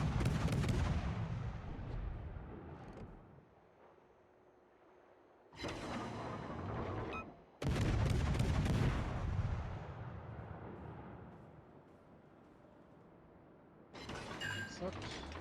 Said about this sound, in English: We just need to get closer to start shooting at it.